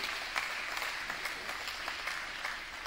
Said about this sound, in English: So how about a round of applause for all of those folks that did that this year.